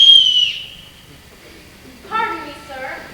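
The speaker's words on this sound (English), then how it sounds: "I don't know your whistle." A signal whistle gives a short, shrill blast with a falling pitch at the start, then fades. A few seconds later a second, warbling whistle call follows. Both sound moderately close over faint background noise in a 1994 school stage production of The Sound of Music.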